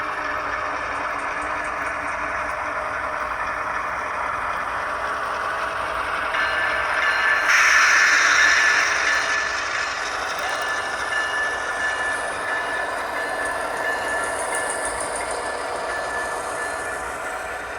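Sound-equipped model locomotives, Athearn Genesis AC4400s in KCS paint, rumble steadily with a diesel drone and a brief louder swell and squeal partway through, no talking.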